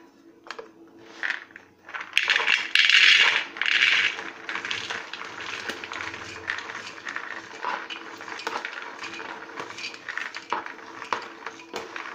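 Washed, overnight-soaked black beans are tipped into a cooking pot, a close, dense clattering rush for a couple of seconds followed by scattered clinks and rattles, with no voices.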